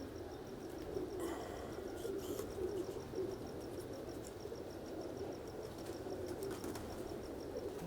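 Teddy breed pigeons from Kasur cooing softly in a loft, low murmuring calls set against a steady background hiss, faint and without speech.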